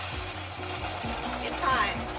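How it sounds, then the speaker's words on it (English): Water is poured into a hot pan of browning ham hocks, setting off a steady, loud sizzle and bubbling hiss that holds for about two seconds. "I'm going to add some water to this."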